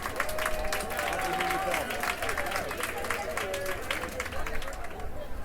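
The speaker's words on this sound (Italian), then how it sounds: "Velocissimamente vorrei un grande applauso per Roby del Lab, facciamoglielo fortissimo." Steady, dense applause from a large audience, loud and continuous throughout, with crowd noise and some cheering voices mixed in.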